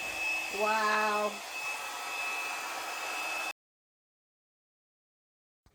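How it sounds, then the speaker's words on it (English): A blow dryer, held upside down and swept side to side, blows acrylic paint across a ceiling fan blade with a close, steady whir that cuts off abruptly after a few seconds; a person briefly exclaims near the start. "how I have the blow dryer upside down and just blowing it side to side"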